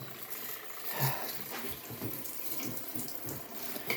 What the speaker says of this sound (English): this is water coming from the drain there